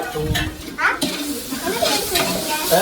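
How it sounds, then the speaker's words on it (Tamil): Onions sautéing in a pan give a moderate crackling sizzle with stirring scrapes, broken by brief clatters, all fairly close. "வெங்காயம் நல்லா வதங்கிச்சு"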